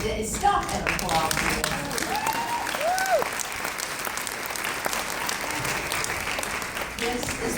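A standing ovation of audience applause at a Ms. Foundation for Women event, broad steady clapping from a large crowd that carries evenly throughout, with scattered cheers and a few voices mixed in early on.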